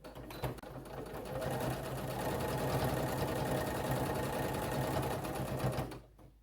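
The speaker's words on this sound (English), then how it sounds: "so let's sew this mask right on the line" A sewing machine runs steadily for about five seconds while stitching a fabric eye mask, a close, even, rapid mechanical whir that starts up and then stops abruptly.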